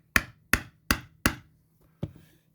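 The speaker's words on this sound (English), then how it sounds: "And then you hammer it some more" Five sharp hammer blows fall on a urethane tire being fitted onto a Meepo electric skateboard wheel. Four come in an even rhythm, then there is a short pause before the last one, each ringing briefly against a faint low hum.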